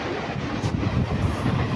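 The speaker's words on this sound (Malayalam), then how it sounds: "അതേ സമയത്ത് ഒരു ട്രെയിനിൻ്റെ അശരീരി കേട്ടതാണ്." A train rolls past near Kilimukkam lake, a steady rumbling rush of wheels on rails heard alone at moderate distance.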